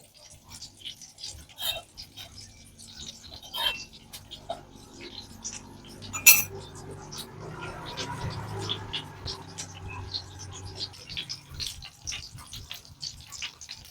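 A utensil scraping and stirring prawns frying in a pan, with irregular rubbing strokes and occasional clinks, close and fairly quiet.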